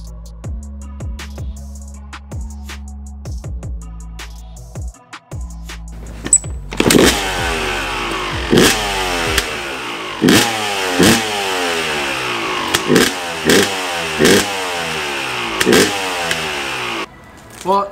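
A Yamaha YZ250 two-stroke dirt bike fitted with a KTM exhaust sputters through several kick attempts, then fires and idles with a loud, close crackle and is blipped in repeated sharp revs, with no talk.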